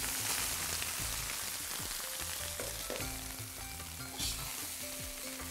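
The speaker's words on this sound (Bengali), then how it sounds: "এখন আমি এর মধ্যে ভাতটা ঢেলে দিই।" Cooked rice with a pinch of turmeric sizzles steadily in a pan while a utensil scrapes and stirs it in repeated strokes, close and continuous with no talk.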